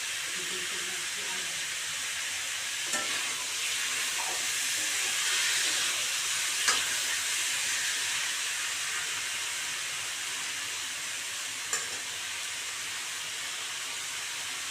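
Chicken meat fries in a pan with a steady, bright sizzling hiss that holds throughout, broken by a few faint pops and spatters.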